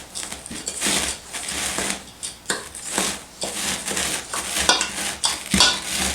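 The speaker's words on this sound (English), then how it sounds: "Gonna stir that around." Oats, flour and brown sugar are stirred together in a bowl for an apple crisp, making repeated close scraping and clinking strokes of a utensil against the bowl in an uneven rhythm, with no one speaking.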